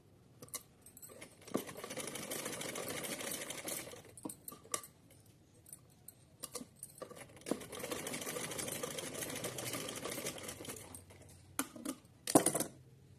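A sewing machine stitches cotton fabric for a small Laddu Gopal summer outfit, running in close, rattling bursts of several seconds with short pauses between them and no talking.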